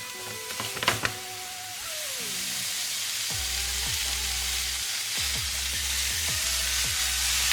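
Burgers seasoned with wood fire garlic seasoning are laid into a hot cast iron skillet. A few clanks and knocks of the patties landing are followed by a steady, loud, close sizzle that keeps building, broken by light scrapes and taps.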